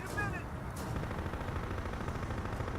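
Muffled bursts of gunfire crackle through a dense, noisy battle soundscape in the tactical squad combat game Full Spectrum Warrior, with a sharp shot early and steady rumbling fire beneath.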